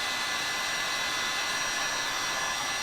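A hair dryer runs steadily at close range, drying paint on a patriotic craft project, with a constant broadband whir and no talking.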